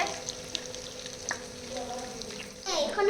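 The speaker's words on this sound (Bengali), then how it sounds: "ভাজা হচ্ছে আর এখানে ভেজে ভেজে তুলছি" Soybean pakoras sizzle and crackle steadily in hot oil, with faint clinks and a short rustle near the end.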